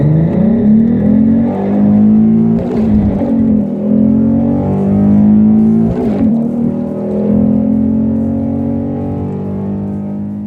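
A modified 2016 Ford Mustang with a 3.7 V6 and six-speed manual drives a mountain road, its engine droning steadily close up, with pitch rising and falling through gear changes and a couple of sharp thumps along the way.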